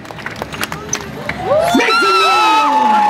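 A crowd waits for someone to land, murmuring at first, then breaks into loud whooping cheers and shouts; distinct clapping is not clear.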